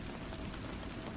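Steady rain falls in a dense, even hiss of drops, continuous throughout with no voices.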